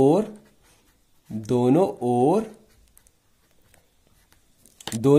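Faint scratching of a pen writing out a Class 10 geometry math problem, heard in the pauses between a man's spoken explanation.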